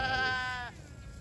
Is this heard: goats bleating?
yes